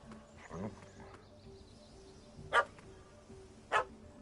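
A puppy barks at a cat up a tree in The Witcher 3: Wild Hunt, giving a few sharp, fairly close yaps spaced about a second apart over quiet ambient game sound, with a soft whimper near the start.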